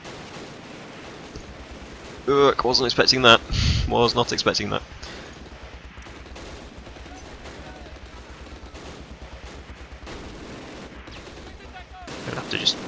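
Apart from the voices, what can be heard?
MG42 machine gun fire in video game Close Combat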